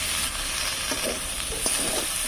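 Spiced leaves stirred in a hot pan for a fish, bean and potato dish: a steady, quiet sizzle with a few soft scraping strokes of the spoon, no voices.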